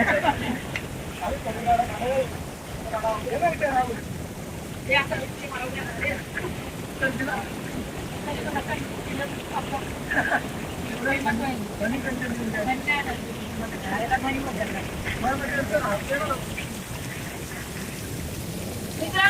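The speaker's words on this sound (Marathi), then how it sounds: "छोटा ना धबधबा" Small waterfall at Kalu in Maharashtra, a steady broadband rush of falling and splashing water running throughout, with voices talking over it.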